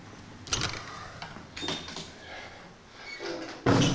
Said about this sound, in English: This is going through the front door.